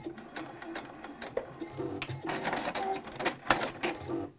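A sewing machine back stitches around the edge of a fabric jewelry organizer pouch, giving short bursts of rapid mechanical stitching that start, pause and run again at close range, with a few clicks and bumps between runs.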